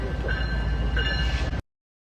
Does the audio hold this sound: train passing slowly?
yes